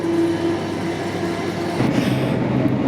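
A train passing on the Great Western Main Line between Reading and London Paddington: a loud, close, steady rumble with a tonal whine that gives way to a heavier roaring rush partway through.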